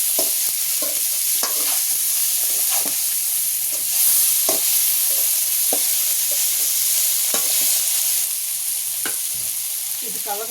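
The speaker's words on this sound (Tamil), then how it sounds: "தாளிச்சதுக்கப்புறம் வேக வச்ச பூசணிக்காய் சேர்த்துருக்காங்க. இப்போ இதை நல்லா திருப்பி தருவாங்க." Boiled pumpkin frying in a pan for a dry Tamil pumpkin poriyal, a steady bright sizzle with repeated scraping stirs of a spatula throughout, close and fairly loud, no voices.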